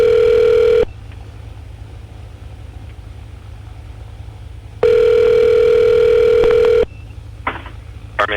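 A telephone ringback tone sounds in a private Baron aircraft on the ground while calling for an IFR clearance, two loud steady electronic tones separated by several seconds of quiet with faint engine hum beneath.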